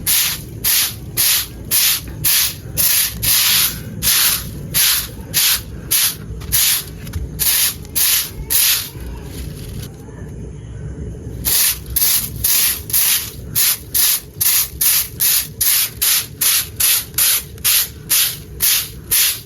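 Steady rhythmic scrubbing of a kitchen slab with a broom, even back-and-forth strokes of bristles rasping on stone, close and loud, with one brief pause midway and no talking.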